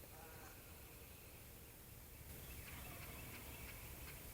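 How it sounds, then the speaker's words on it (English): A wild turkey gobbles in the distance over steady outdoor background noise, with a few faint bird calls near the end. "that bird just gobbled again that way"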